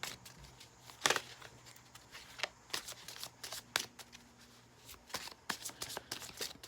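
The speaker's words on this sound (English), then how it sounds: "this one is kind of hard to shuffle," Tarot cards being shuffled by hand, a run of crisp riffling flutters and soft slaps coming in bursts at close range in an otherwise quiet room.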